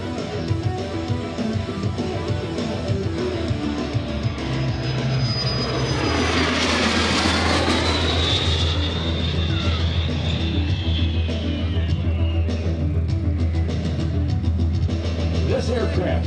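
Czechoslovak-built L-39C Albatross jet making a pass at an air show, a loud sustained roar that swells and sweeps as the aircraft flies by, with a high whine sliding downward as it passes.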